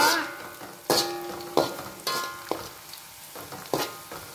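Garlic frying in a pan of oil for crispy sambal, with bursts of sizzling and stirring clatter recurring every half second or so, close and moderately loud.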